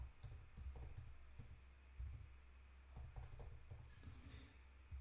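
Light, quick keystrokes on a computer keyboard, tapping in short irregular bursts over a low steady hum, quiet and close, with no speech.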